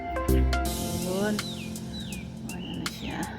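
Birds on a mountain in Macau give a few short, thin chirps and rising tweets at a moderate distance, mixed with other outdoor sounds.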